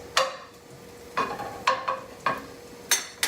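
Melting butter being pushed around a pan with a spoon for scrambled eggs, a few sharp scraping strokes spaced out at irregular intervals against a faint sizzle, close and clear with no voices.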